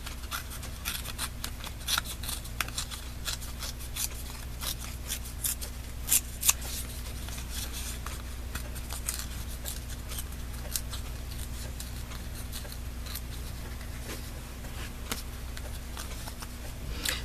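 Paper file folder having its edge ripped by hand, a soft crackle of scattered short tears and rustles running steadily at close range over a low constant hum, with no talk.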